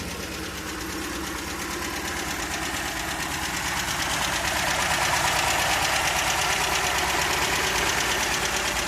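A 1968 MGB GT engine idles on choke with a steady, loud mechanical chatter and faint knocking running throughout, building slightly in level partway through, with no voices.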